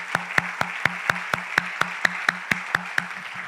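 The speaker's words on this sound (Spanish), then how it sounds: "Dale un fuerte aplauso al Señor." A church congregation claps in steady unison, beating a quick, even rhythm of sharp claps, roughly four per second, over a sustained low musical tone.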